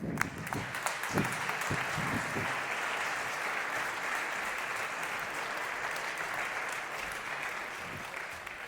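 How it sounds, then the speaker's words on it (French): An audience at an awards ceremony applauds steadily, a dense, even patter of clapping that carries on without a break. "Et voilà, on peut les applaudir."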